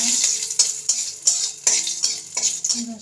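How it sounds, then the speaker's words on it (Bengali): Dried red chilies and black cumin sizzle in hot oil in a kadai, a bright steady hiss close by, with a quick run of rhythmic spatula scrapes and stirs cutting through it. "শুকনো লঙ্কা দিয়ে দিলাম।"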